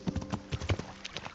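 Horse hooves clip-clop in a quick, uneven rhythm as a horse is ridden in the medieval game Kingdom Come: Deliverance, close and fairly clear with no talk.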